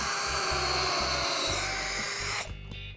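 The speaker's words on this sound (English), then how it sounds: "drill 3 evenly spaced pocket holes on the sides and center support of the desk" A power drill bores evenly spaced pocket holes into wooden desk pieces, a loud, close whine in repeated short bursts with brief pauses between them.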